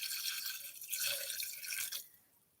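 Marsala wine pours into a measuring cup, a short liquid trickle and splash that runs for about two seconds, then fades out.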